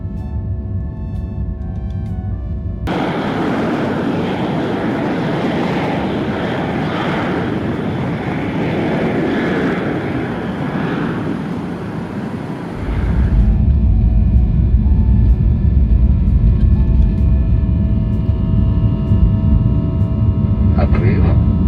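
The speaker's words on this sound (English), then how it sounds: "Начинаем разбег, двигатели взлетный режим, поехали." A jet airliner's takeoff roll on a Moscow round-trip flight, heard from inside the cabin: a steady rush, then a sharp step up into a louder, deeper engine roar at takeoff power that holds to the end.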